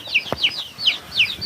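Young chicks being brooded in a warm spot through winter cheep in quick, high, repeated peeps, about five bright calls close by with a soft thump among them.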